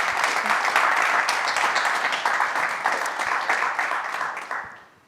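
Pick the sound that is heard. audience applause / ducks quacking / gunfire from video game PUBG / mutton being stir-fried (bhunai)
audience applause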